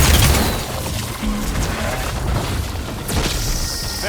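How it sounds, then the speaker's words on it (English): An explosion in Horizon Forbidden West opens with a heavy, loud boom, then crashing debris rumbles on through a sustained roar, with a sharper crack near the end. "It's gonna explode."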